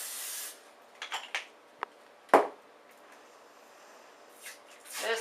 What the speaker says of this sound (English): we're going to spray down our surface so it doesn't stick